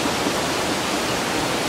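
A river rushes right beside an open-air hot spring bath at Shio-no-yu in Nasu-Shiobara, a steady, close, full hiss of flowing water with no breaks or voices.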